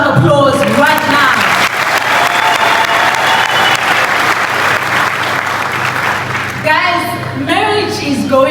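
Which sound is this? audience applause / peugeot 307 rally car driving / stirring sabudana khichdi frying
audience applause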